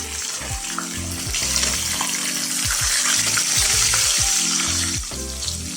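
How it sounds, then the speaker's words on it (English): Hot oil poured over fried fish in a frying pan sizzles and crackles loudly and continuously, a close, bright hiss with popping bubbles and some low background music. "Pour the hot oil over the top and watch it sizzle."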